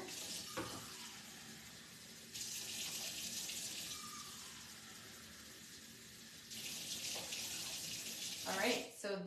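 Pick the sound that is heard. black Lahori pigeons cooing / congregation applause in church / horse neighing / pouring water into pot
pouring water into pot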